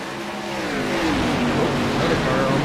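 Race car engines build and rise together at a restart in the iRacing video game at Darlington, a loud, swelling engine drone with climbing pitch and no speech.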